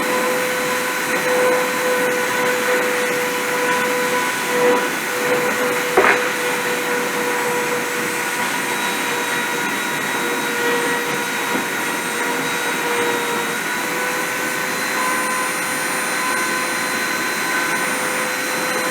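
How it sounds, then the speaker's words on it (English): Machine spindle running with a continuous high whirring drone and steady tonal hum, accompanied by a broad airy noise and a faint brief knock partway through. "Okay, I'm going to turn the spindle off."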